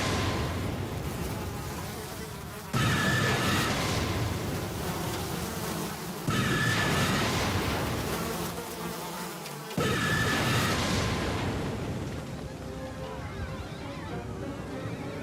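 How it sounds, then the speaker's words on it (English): Swarm of flies for the biblical plague of flies in an Exodus drama: dense, continuous insect buzzing that swells in several loud waves, close and filling the sound throughout, with no talk. "my God will send swarms of flies upon you and your people!"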